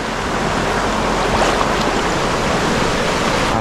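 The Genal river in winter flood rushes loud and close, a steady, dense roar of churning water with no letup and no voices.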